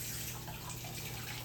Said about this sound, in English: we're gonna put some water in this one